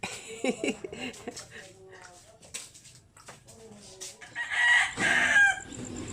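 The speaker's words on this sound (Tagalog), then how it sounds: "Lahat pala ng manok, pag ganito, umaga" Several roosters crow and chickens cluck at varying distances in the early morning, with a voice talking in between the calls.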